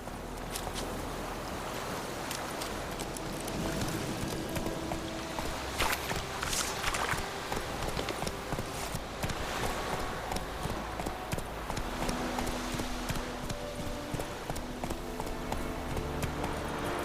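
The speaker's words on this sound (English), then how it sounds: "Whoa there, Roach" A horse's hooves clip-clop steadily in The Witcher 3 video game, a continuous walking rhythm at moderate volume layered over ambient game sound.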